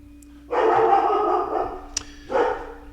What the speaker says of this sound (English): Those are my dogs. I hope that's okay.